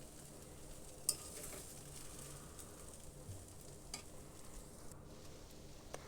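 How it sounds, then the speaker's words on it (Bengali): Chowmein noodles with pink oyster mushrooms are tossed slowly with sauce in a pan, a faint, quiet sizzle and soft stirring with one brief clink early on. "সব নুডলসের সাথে সসগুলো ভালোভাবে মিশিয়ে নিতে হবে।"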